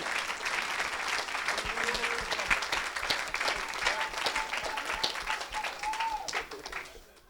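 A church crowd bursts into sustained applause and cheering for Jesus, dense rapid clapping that stays loud throughout, then tapers at the very end.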